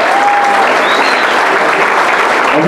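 Crowd at a bullfighting festival event applauding a singer, loud continuous clapping throughout with faint voices mixed in.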